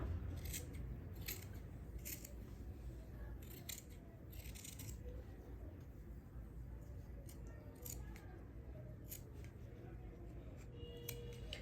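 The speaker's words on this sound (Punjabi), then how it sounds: "ਇਸ ਸਾਈਡ ਤੋਂ ਵੀ ਆਪਾਂ ਦੇਖੋ ਨੂੰ ਕਟਾਈ ਕਰ ਲਾਂਗੇ ਇਸ ਤਰ੍ਹਾਂ" Scissors snipping fabric while cutting out a neck design for stitching, with repeated short sharp cuts in an irregular rhythm, close and quiet against a steady background hiss.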